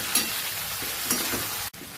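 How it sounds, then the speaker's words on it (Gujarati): Spices being stirred into okra sabzi in a hot pan: a steady soft sizzle with faint scraping strokes, close and even, ending in a brief cut. "બધું સરસ આપણે મિક્સ કરી લેશું."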